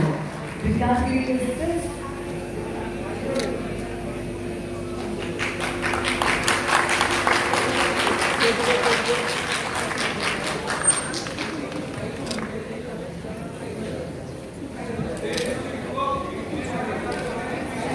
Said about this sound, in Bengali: একবার জোরে হাততালি হয়ে যাওয়া কর্মশ্রী বন্ধুদের ভট্টাচার্য।